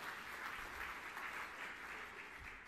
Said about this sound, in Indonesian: Tepuk tangan yang meriah untuk kemuliaan.